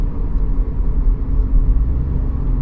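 Low steady engine rumble from a 2015 Scion FR-S 2.0 at light throttle, an engine showing lean-bank fault codes and a suspected intake leak; loud, continuous and close, with no voices.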